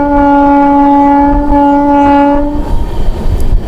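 The LHB Lahori Express, running Dehradun to Amritsar, passes through Tangra station with a loud, sustained horn blast that holds for about two and a half seconds. A rumbling roar of the rolling train continues after the horn stops.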